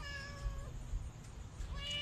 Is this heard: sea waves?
no